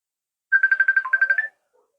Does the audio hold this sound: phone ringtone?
yes